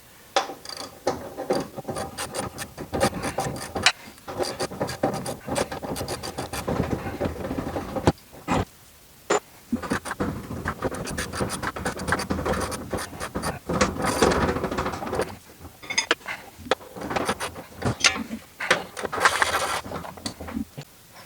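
Wrenching and loosening of front suspension bolts on a Honda S2000 during a KW V3 coilover install, with rasping ratchet clicks, scraping metal and knocks in busy, close bursts broken by a few brief pauses.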